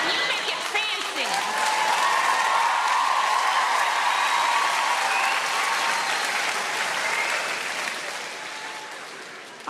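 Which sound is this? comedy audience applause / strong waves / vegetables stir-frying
comedy audience applause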